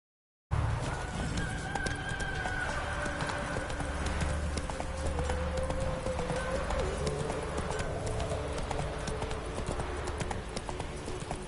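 Roach, the horse in a PS4 video game, clip-clops steadily at a trot, its hoofbeats continuous and close over a dense wash of game ambience and music, with a faint neigh and bird calls behind.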